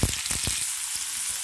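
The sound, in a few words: onions frying in hot oil with cumin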